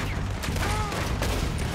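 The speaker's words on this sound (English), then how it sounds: "Somebody shooting at me?" Gunfire from enemy gang members in the Red Dead Redemption 2 video game, a burst of shots that crackles in the mid-clip over a dense, busy game soundscape with continuous background noise.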